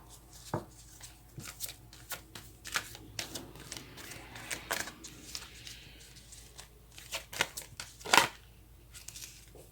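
Tarot cards are shuffled and handled in quiet, irregular bursts of soft riffling, flicking and slapping, with a sharper rustle near the end and no voices.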